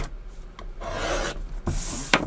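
Card stock being scored on a scoring board, short rasping rubs and scrapes with a sharp click near the end, close and quiet with no voices.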